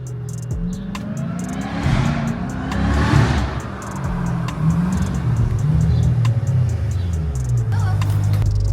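A Jeep Trackhawk engine drones at steady cruise from inside the cabin, with a few rising and falling shifts in pitch as it accelerates, while people talk over the constant road and engine noise.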